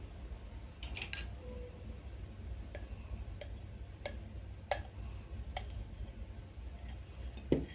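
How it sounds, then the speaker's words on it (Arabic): Flour being stirred slowly into marble cake batter in a bowl, faint soft mixing under a quiet background, with sparse light clicks of a utensil against the bowl at irregular intervals. "طبعا بنقلب في اتجاه واحد بالراحه كده في الاول"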